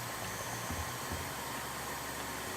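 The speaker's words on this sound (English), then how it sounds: "let's go ahead and vacuum in here" Steady broadband whooshing drone of a vacuum cleaner in the House Flipper 2 video game, running continuously at moderate level with a low hum underneath and no voices.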